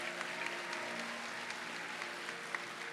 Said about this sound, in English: one more round of applause for all of our athletic category finalists